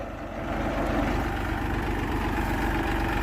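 A Massey Ferguson 241 tractor engine runs steadily at about 1200 rpm in low second gear, producing an even, throbbing diesel drone at close range with no speech.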